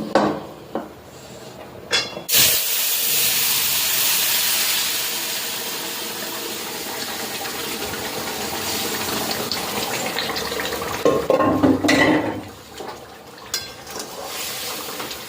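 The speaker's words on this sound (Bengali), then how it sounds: "মাংসটা প্রেসার কুকারে সেদ্ধ করে নিলাম, এবার ঢেলে দেবো।" Pressure-cooked mutton pours from a cooker into a pan, a splashing, sizzling rush of liquid with clinks of metal cookware at the start and near the end.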